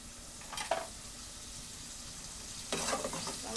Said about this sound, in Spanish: Vamos revolviendo.